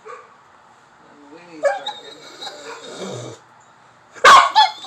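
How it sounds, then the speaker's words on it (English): A Pitbull/American Bully barks at a neighbor's dog, giving a few loud, close, high-pitched yips and whines with a sharp burst near the end, while people talk over it. "I'm not going to let you go out there and just bark at that dog."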